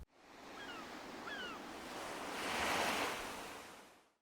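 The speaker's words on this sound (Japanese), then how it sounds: "環境音は同じく海が近くにあるので海にしておきます" Ocean surf rolls as a soft ambient wash inside an Animal Crossing house, a broad steady rush swelling gently in the middle, with faint gull-like calls early on.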